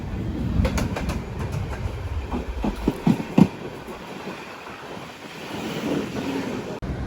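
An MMTS suburban commuter train runs along the elevated line overhead near Secunderabad and Charlapalli, a steady rolling rumble with rhythmic wheel clatter and wind buffeting the microphone, swelling in the middle and then easing off, with no talk.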